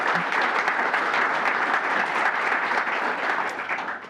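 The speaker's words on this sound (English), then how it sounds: "Let's give our three visiting guests a round of applause" Audience applause at an AIA Las Vegas member meeting welcoming visiting guests, a dense, steady wash of clapping from a room of people that holds evenly before tapering off at the end.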